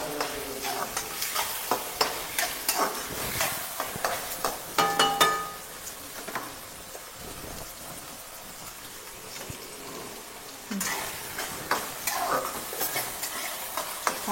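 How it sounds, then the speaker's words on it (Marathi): Onion and tomato fry in a pan with turmeric and mustard seeds, a soft sizzle broken by bursts of stirring and scraping, with a quieter stretch of gentle crackling in the middle. "कांदा आणि टोमॅटो जरा भाजू द्यायचं."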